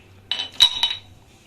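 Cardamom being crushed for sugar syrup gives a few sharp, close metallic clinks and taps in quick succession, then a quiet fade, with no talking.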